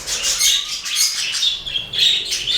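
Caged budgerigars chirp and chatter in quick, bright bursts close by, with a soft rustle beneath the steady run of calls.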